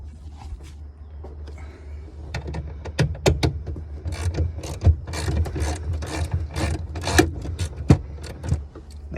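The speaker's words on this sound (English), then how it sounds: "I have a 10 millimeter, so I'm going to take out these 3 screws." A 10 millimeter ratchet backs out screws from the hatch of a 1987 Pontiac Trans Am, rapid clicking bursts and metallic rattles over a steady low hum, close and moderately loud, with no talking.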